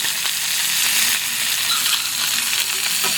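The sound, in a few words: chicken searing and sizzling in its rendered fat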